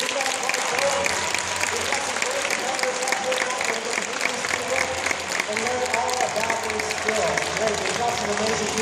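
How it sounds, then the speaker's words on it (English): An audience at a 2014 MHS hypnotism show gives a loud, sustained round of applause, dense and continuous, with cheering and voices mixed in. "this round of applause is all for you"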